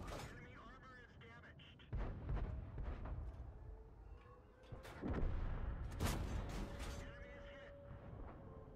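Tank cannon fire in the World of Tanks video game: heavy booming shots land around 2, 5 and 6 seconds over a rumbling engine-and-battle bed, with a player's voice talking throughout.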